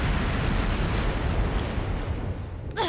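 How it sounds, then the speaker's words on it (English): A flash grenade goes off in the video game Trails of Cold Steel 3, a loud, dense, rumbling blast that sustains for a couple of seconds before tailing off. "Flash grenade! Everyone down!"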